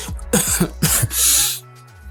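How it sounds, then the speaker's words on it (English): A person coughs several times in a quick burst, close and loud, followed by a harsher throat-clearing rasp, with no talking. "I hate my cough"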